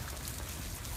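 Steady rain falls around a cottage-style carriage house garage with black stamped doors, a dense, even hiss and patter that stays constant throughout with no voices.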